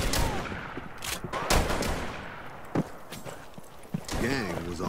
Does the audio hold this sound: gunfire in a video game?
yes